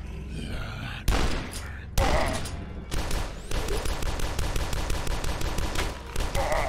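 Heavy shotgun blasts from the game Dusk land as loud, booming single shots about a second apart, followed by a long stretch of rapid, clattering gunfire and game effects.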